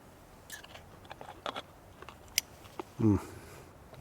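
Someone biting and chewing a baked pastry with a crunchy, crispy crust and creamy filling, scattered crisp crunches and clicks, then a short voiced sound near the end over quiet background.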